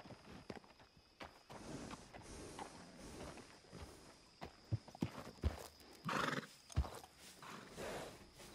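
A liver chestnut Morgan horse in the video game Red Dead Redemption whinnies and snorts amid scattered hoof clip-clops and stable noises, faint at first and then louder and closer.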